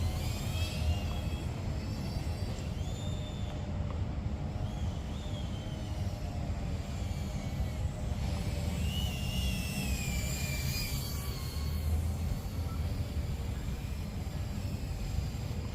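A Junior Racer 75 FPV drone fitted with higher KV motors flies continuously, giving a steady whining, rushing motor buzz with pitch sweeps as throttle changes, loud and unbroken for the whole stretch.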